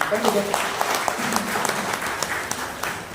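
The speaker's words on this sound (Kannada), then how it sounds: "ಒಂದು ಚಪ್ಪಾಳೆ ಕೊಟ್ಬಿಡೋದು" Audience clapping together at a Kannada talk on magnetic therapy, a dense steady patter of hands lasting a few seconds, fairly close and continuous with no voices over it.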